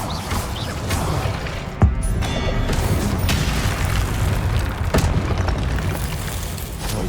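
An Incendio fire spell is cast in Hogwarts Legacy, producing a loud, steady roaring blast broken by two sharp cracking impacts a few seconds apart, with no voices.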